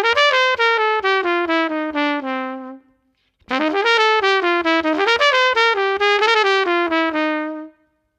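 Jazz dominant bebop arpeggios played as fast 16th-note runs on a clear, sustained melodic instrument, two flowing phrases separated by a short pause, loud and close with no talking.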